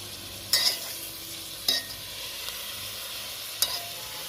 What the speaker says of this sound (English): we are adding the callaloo now